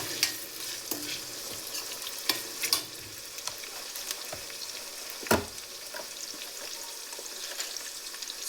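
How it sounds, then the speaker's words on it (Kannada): Chopped onions and tomato fry in a hot pan, a soft continuous sizzle broken by occasional scraping stirs and clinks of a spoon, fairly quiet with no talking. "ಸೊ ನೋಡಿ ಈರುಳ್ಳಿ ಚೆನ್ನಾಗಿ ಫ್ರೈ ಆಗ್ತಾ ಇದೆ"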